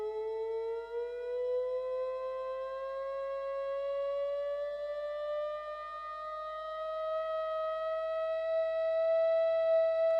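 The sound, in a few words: theremin played slowly, pitch being adjusted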